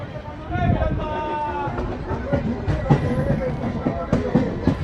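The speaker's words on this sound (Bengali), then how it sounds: "ট্রেন ছেড়ে দিল কৃষ্ণনগর স্টেশন থেকে" A passenger train pulls away from Krishnanagar station, its wheels rumbling and clattering beneath the carriage while voices chatter nearby throughout.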